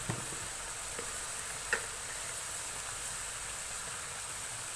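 Spices and ingredients sauté in a hot pan for a peppery home-cooked dish, giving a soft, steady sizzle that stays low and even, with one small clink partway through.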